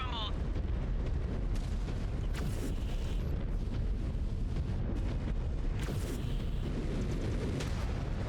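Missile explosions from MechWarrior 5: Clans combat, a dense continuous rumble of booms and blasts with sharp bursts throughout, loud and sustained under occasional game chatter.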